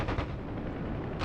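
Dense, continuous gunfire from a helicopter door gunner in the DCS World flight simulator during a WWII Marianas air cavalry mission, a loud rapid roar that barely pauses across the moment.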